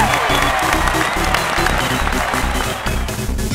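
Crowd applause and cheering ring out loudly before a toy car race, a dense wash of clapping over a thumping rhythmic backing beat.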